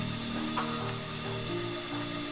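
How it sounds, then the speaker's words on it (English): Electric meat grinder steadily grinding short rib, chuck and tenderloin, a close, continuous motor whir with a rough grinding texture and no pauses or talk. "And we gonna go ahead and grind this up. So we gonna go ahead and get it in this grinder."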